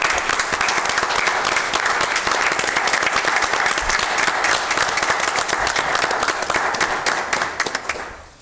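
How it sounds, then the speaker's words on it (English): A town meeting audience bursts into steady, dense applause for Brian, a sustained wash of many hands clapping that fades away over the final second. "if you could just join me in a round of applause for Brian"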